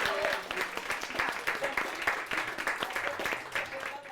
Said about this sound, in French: je veux juste qu'on commence par donner un gros applaudissement à Sylvie